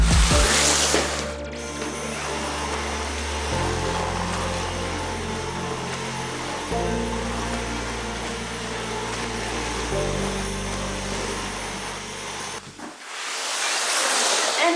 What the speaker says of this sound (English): Let's vacuum.